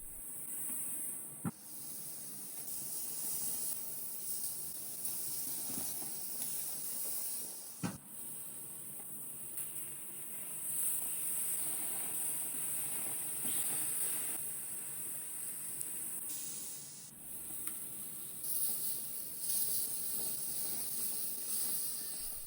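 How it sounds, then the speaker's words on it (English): Three frozen burger patties sizzle on a Weber Q+ Premium 2600N+ gas grill, a steady loud hiss with occasional sharp pops and crackles that runs on without break. "All 3 frozen patties go straight onto the grill."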